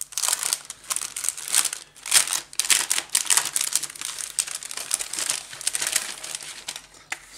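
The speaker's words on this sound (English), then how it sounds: "I like that they've got resealable bags, I've got to cut them open." Resealable plastic bags holding parts of a 1/48 scale Lancaster model kit are cut and handled, making loud close crinkling and rustling that runs continuously with sharp bursts and no talking.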